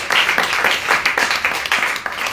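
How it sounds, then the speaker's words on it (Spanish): A church congregation applauds during a service, a dense burst of many hands clapping together for a couple of seconds, loud and close. "¿Cuántos pueden darle un aplauso al Señor?"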